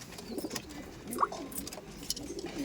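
Giribaz pigeons cooing inside a breeding loft with pair boxes, a low murmur of soft coos with one brief sharper call, fairly quiet and close.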